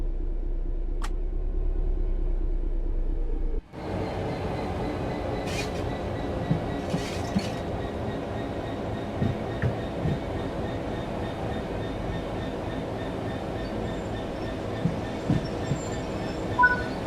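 A train in a railway simulator game rolls along the rails during shunting toward waiting wagons for coupling. It gives a steady, continuous rumble with faint rhythmic clicks after a sudden start, and no voices are heard.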